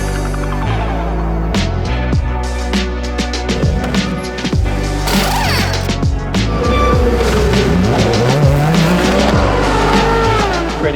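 Race cars, including an Alpine, slide and tag the wall during a chaotic race in difficult conditions: loud engines roar, tires squeal and skid, and impacts thud amid continuous close racing noise.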